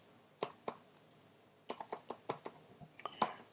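Someone types on a computer keyboard in short, uneven bursts of close, crisp key clicks, with a pause in the middle and no voice over them.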